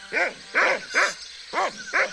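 A dog barks in the pirate adventure game Monkey Island 2: LeChuck's Revenge, five sharp, evenly spaced woofs, close and loud, with short pauses between them.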